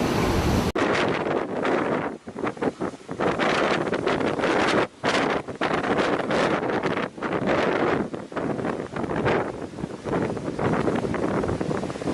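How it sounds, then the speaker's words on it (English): Powerful waves break near rocks as a small fishing boat passes, with a steady roar of surf and heavy wind buffeting the microphone throughout. "A small fishing boat passes powerful waves near the rocks."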